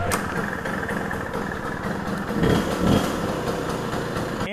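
A 1980 Puch Newport II moped with a ZA50 motor is pedaled to start, producing a continuous buzzing small-engine drone with rattly pedal and mechanical noise that swells briefly, heard nearby.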